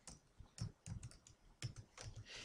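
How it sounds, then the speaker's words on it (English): Typing on a computer keyboard, a short burst of irregular, fairly soft key clicks heard close up. "If I typed into here,"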